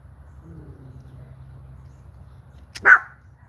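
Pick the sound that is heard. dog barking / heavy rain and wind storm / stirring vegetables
dog barking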